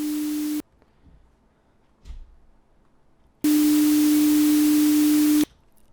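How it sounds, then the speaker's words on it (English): A steady pure tone hums under a blast of loud hiss, the hiss cutting in and out in two bursts with near silence between. "throwing a bunch of white noise over a single, 300 hertz tone"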